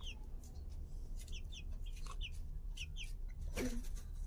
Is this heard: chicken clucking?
yes